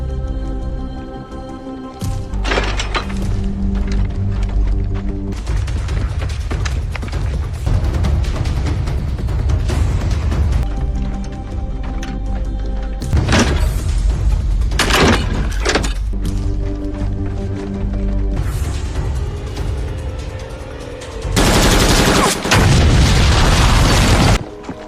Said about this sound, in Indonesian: John juga berhasil menembak bom yang berada di parit pasukan Liu